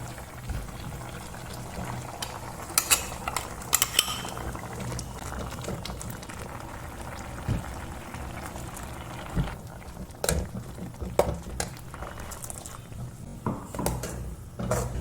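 Pumpkin curry with ground coconut paste simmers in a pot, giving a continuous bubbling, popping boil with scattered louder pops and splutters.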